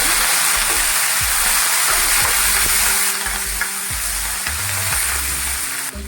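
Close, steady sizzling and crackling of leaves frying in hot oil, with a few soft clinks of a utensil against the pan.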